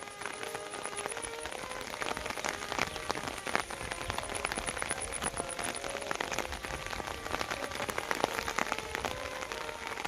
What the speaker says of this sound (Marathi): आणि पाऊस पण चालू